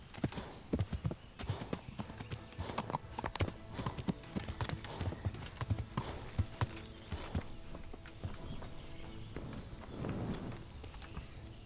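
Continuous clopping of horse hooves on hard ground in the video game Kingdom Come: Deliverance, a brisk uneven rhythm that carries on throughout with faint background noise.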